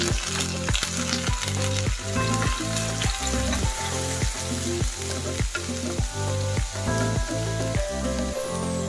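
Garlic and onion frying in a pan, a loud continuous sizzle with regular stirring scrapes and clinks repeating about every half second, close and alone without talk.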